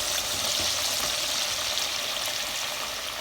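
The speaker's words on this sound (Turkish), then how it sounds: "Köftelerimiz kızardı." Köfte meatballs fry in a pan of hot oil, giving a steady, close, even sizzle that carries on unbroken with no talking.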